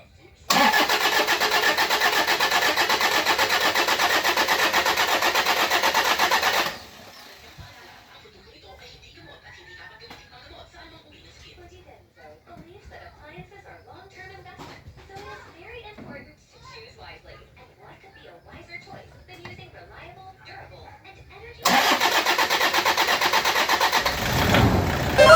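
A Toyota Innova with a 2KD D-4D diesel, after EGR system maintenance, runs loudly, goes quiet while people talk, then cranks and fires back up into a loud, close diesel idle near the end.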